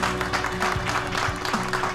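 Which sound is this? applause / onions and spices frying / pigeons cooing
applause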